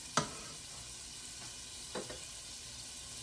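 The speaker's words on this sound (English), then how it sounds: "I'm gonna drop a couple of tablespoons into this saucepan" Butter sizzling in a saucepan for Mexican street corn dip makes a soft, steady frying hiss, with a sharp tap at the start and a couple of faint clinks later, alone without talk.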